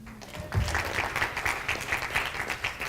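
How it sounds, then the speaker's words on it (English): Listeners at a public speaking talk clap for themselves, a modest, somewhat distant patter of applause that swells after a moment and continues at moderate volume. "give yourself a hand"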